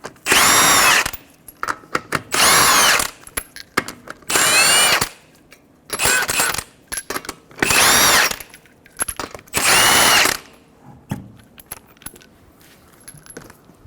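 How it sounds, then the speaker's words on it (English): A power tool zips 21mm lug nuts off a Toyota Highlander wheel in six loud, close bursts of about a second each, with small metallic clinks of the nuts between bursts and no talk. "Remove your 5 21mm lug nuts."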